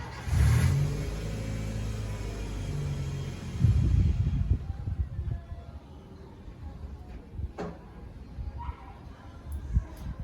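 A car engine starts with a sharp rumbling burst and revs, then settles into a lower idle that fades, followed by faint clicks and knocks.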